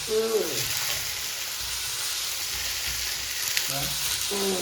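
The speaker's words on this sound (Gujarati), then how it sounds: "જો ગાઈસ સબ્જી વઘાર થઈ ગયો" Capsicum sabzi sizzling as its tempering hits hot oil, a steady loud frying hiss throughout, with a couple of brief stirring scrapes near the start and end.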